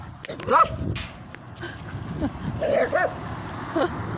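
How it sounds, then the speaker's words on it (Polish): A dog gives several short, sharp yips and barks at irregular intervals indoors, close by, with muffled household noise between the calls. "Psy"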